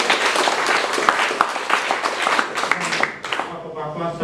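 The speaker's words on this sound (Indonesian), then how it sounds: "Mari kita tepukkan." Audience at a village closing ceremony for an environmental hygiene, sanitation and waste-processing training, applauding in dense, fairly close clapping that fades out after about three seconds.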